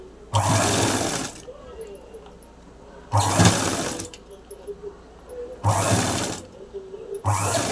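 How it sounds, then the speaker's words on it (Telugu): Sewing machine running in three loud bursts separated by quieter pauses as lace is stitched onto a blouse, a steady mechanical whir with bright rattling tones, close by with faint background talk between runs. "దీని మీద లేస్ని అయితే అటాచ్ చేస్తున్నాను."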